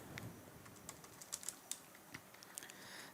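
Light, irregular keystrokes on a computer keyboard, faint and close, a scattering of quiet clicks with a few sharper taps, with no talking over them.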